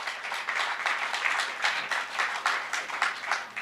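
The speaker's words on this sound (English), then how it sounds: "Round of applause." A small press-conference audience applauds before the 2024 SuperMotocross Round 1 race in Anaheim, a moderate, fluttering run of claps with an uneven pulse that continues throughout.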